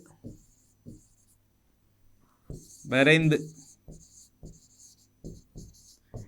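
A pen or pencil drawing a line on paper in a geometry exercise, heard as short close scratchy strokes in a sparse rhythm, with a brief spoken word in the middle.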